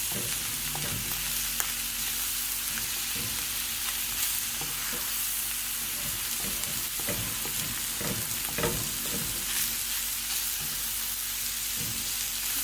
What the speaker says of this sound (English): I keep moving it just so it's not sticking to the bottom, not burning any of the vegetables